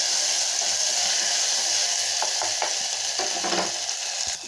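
Ginger garlic paste frying in a pan for village-style fish kulambu, a loud close hiss of oil with several quick scraping strokes of a spoon stirring near the end, and no talk.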